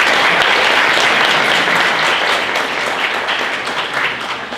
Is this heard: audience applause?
yes